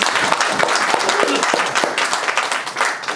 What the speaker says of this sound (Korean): 그 박수 한번 좀 부탁드리겠습니다